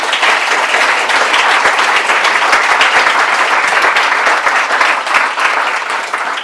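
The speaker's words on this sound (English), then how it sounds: "Let's give our debaters a round of applause" At a rent regulation debate in New York City, the audience gives the debaters loud, sustained applause that holds steady for several seconds, with no voices over it.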